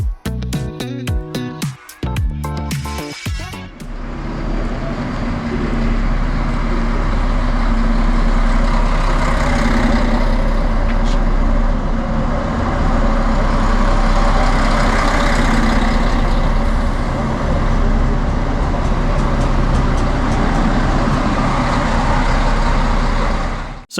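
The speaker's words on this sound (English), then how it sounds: "here we can see the arrival of my train today" A Deutsche Bahn RegioShuttle diesel railcar pulls into Günzburg station, its loud, steady engine rumble and drone filling the platform after a few sharp clacks at the start.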